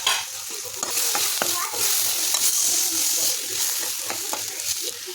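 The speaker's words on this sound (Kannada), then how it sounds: "ಆನಿಯನ್ನು ಈಗ ಹಾಕ್ಕೊಂಡು ಮತ್ತೆ ಫ್ರೈ ಮಾಡ್ತೀನಿ" Onions and tomato fry with turmeric in a pan, a busy sizzle broken by repeated scraping stirs of a spoon, close and fairly loud, with faint voice murmurs underneath.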